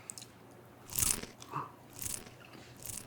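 Crunchy bites and chewing on a charred, blackened hot dog cooked barbecue-style, with several crisp crunch bursts spaced about a second apart, close and fairly quiet.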